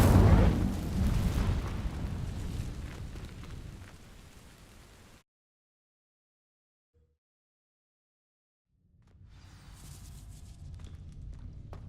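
A fire spell bursts into flame on dry vines in Hogwarts Legacy, a loud roaring crackle that fades over several seconds, cuts to silence, then a softer rumble returns.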